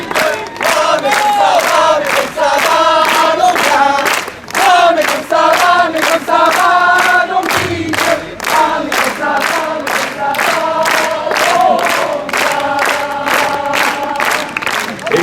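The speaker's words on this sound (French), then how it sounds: "On peut les applaudir." A crowd applauds a new champion at a Saint Loup 2024 trescalan event in La Turballe, with loud rhythmic clapping in regular bursts and occasional cheering throughout.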